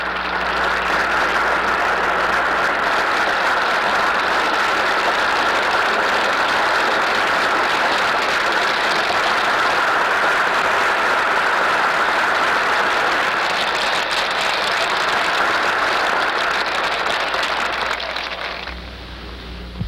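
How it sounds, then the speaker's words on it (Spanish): Sustained applause from a large audience in the US Congress greets Venezuelan president Isaías Medina Angarita, a dense, continuous roar of clapping that holds steady for almost twenty seconds before fading slightly at the end. "el presidente de Venezuela es recibido con una gran salva de aplausos"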